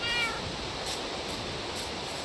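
A cat meows in the video game Minecraft, a short, clear mew near the start heard over a steady background hiss of ambient noise.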